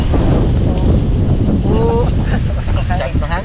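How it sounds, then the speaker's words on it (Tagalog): Strong wind buffets a small fishing boat out on the sea, a steady loud roar of gusts across the microphone, with faint voices mixed in beneath it. "Ang hangin masyado."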